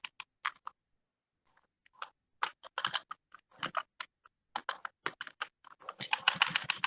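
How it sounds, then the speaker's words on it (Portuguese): Someone types a title on a computer keyboard in quick bursts of close key clicks, with short pauses between them and then a faster, denser run of taps at the end. "O título você iria digitar normal"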